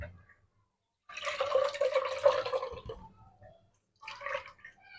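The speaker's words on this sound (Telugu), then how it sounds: "ఇప్పుడు ఈ నీళ్ళలోని ఒక క్లాత్ అయితే తీసేసుకొని శుభ్రంగా తడిపేసుకుంటున్నానండి." A cloth is soaked in a bowl of water in a home kitchen before being tied over a vessel for steaming jowar pittu. Two quiet bursts of sloshing and dripping water are separated by a short silence.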